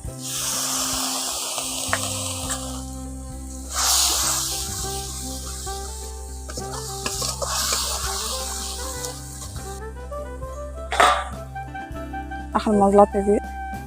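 Melon seed paste drops into hot spiced oil and sizzles in loud hissing bursts that come and go, with a few clinks and scrapes toward the end, faint voices in the background.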